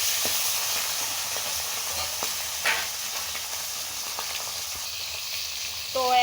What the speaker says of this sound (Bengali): কড়ায় তেল গরম হয়ে গেছে, এখন এই মাছের মাথা দুটো আমি ভেজে নেব।